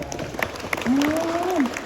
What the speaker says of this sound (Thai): ปรบมือให้พี่พี่นิวเจนหน่อยครับ